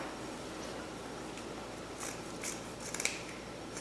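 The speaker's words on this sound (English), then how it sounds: "cut all these ends, fold them in half, cut them, that way you've got a little chevron end" Scissors snipping the ends of decoration strips for a Halloween arrangement, a few quiet, quick cuts clustered near the end over a soft background hiss.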